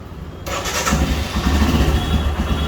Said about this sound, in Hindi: बाइक हमारी स्टार्ट हो गई है